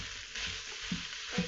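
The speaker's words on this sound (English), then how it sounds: "We're going to go ahead and add our ground beef. Drop that in there." Ground beef sizzles steadily in an Instant Pot as it is dropped in, a continuous hiss of frying with a few soft thumps and scrapes, close and alone without talk.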